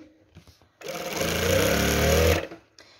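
A sewing machine runs in one burst of about a second and a half, stitching curtain heading tape onto fabric, a loud close buzzing hum framed by brief quiet handling sounds.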